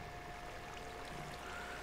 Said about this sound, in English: Is there too much water breaking things?